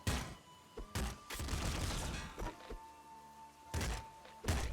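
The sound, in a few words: triple machine gun firing in video game Nuclear Throne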